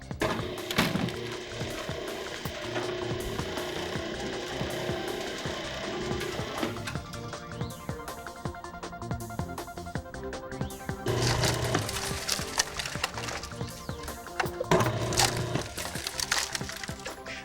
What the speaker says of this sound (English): The SB05 runs very quietly and efficiently on the 110 motor.